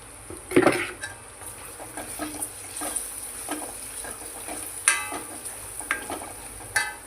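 Potatoes frying in a pan with a spoonful of chili powder, stirred now and then, give a steady low sizzle with scattered scraping and clinking spoon strokes, close and moderately loud, with no talk.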